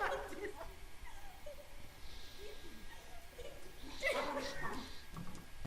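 A dog whimpers and gives short high yips and whines in bursts, with people talking over it.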